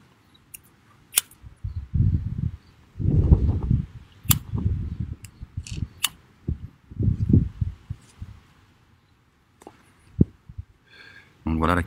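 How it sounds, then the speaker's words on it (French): Outdoor wind buffets a microphone in low, rumbling gusts while a lighter is flicked repeatedly to light a joint, with sharp isolated clicks scattered between the gusts. "Il y a du vent, j'essaie d'allumer mon joint."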